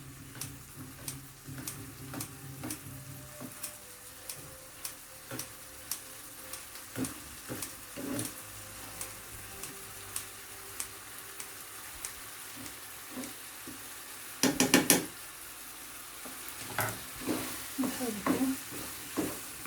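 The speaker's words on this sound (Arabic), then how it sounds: "نحرك الشعرية ديالنا مزيان مع الحشوة." Vermicelli noodles with chicken breast filling are stirred in a sizzling pan, giving steady faint frying hiss broken by repeated utensil scrapes and one louder clatter near the middle.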